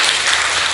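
Brief burst of congregation applause during a Sunday worship service, a dense wash of clapping under a second long.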